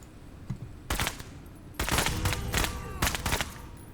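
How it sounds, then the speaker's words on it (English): Machine guns rattle in a video game firefight, with several close, loud bursts of rapid shots separated by brief lulls. "We are under heavy fire."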